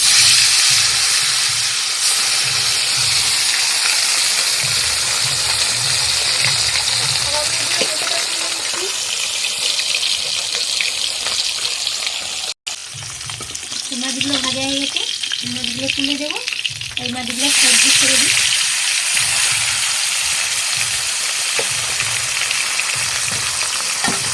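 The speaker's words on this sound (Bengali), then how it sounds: "তেলটা গরম হয়ে গেছে মাছগুলো ছেড়ে দেবো" Bata fish pieces frying in hot oil in a kadai produce a loud, steady, close hiss that runs the whole length with only a brief dip. Faint voice-like tones come through partway.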